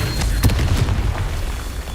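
A Confringo explosion spell going off in a video game, a loud booming blast with a sharp burst near the start and a rumbling low tail that fades over about two seconds.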